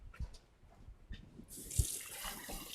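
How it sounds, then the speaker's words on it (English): A top being rinsed under a running kitchen tap: faint clinks and handling knocks, then water gushes on and streams steadily with a bright hiss, close by and without talk. "I'm going to rinse this top off."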